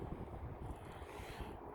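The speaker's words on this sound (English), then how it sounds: "It's a little windy out here today." Wind buffets the microphone outdoors, a low continuous rumble with gusty fluctuations and no voices.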